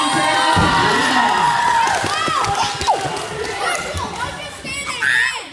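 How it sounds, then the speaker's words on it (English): Children in a school concert audience cheer and shout loudly, with scattered thumps and claps under the crowd noise, which dips briefly and then swells again. "I want you guys to cheer on Julie and Marshall"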